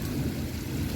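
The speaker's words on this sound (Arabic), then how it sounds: "صوت الشتا شحال كيحمقني صوت الشتا" Steady spring rain falling outdoors, a dense continuous wash of drops with a low rumbling undertone, fairly loud and unbroken through the short stretch with no voices.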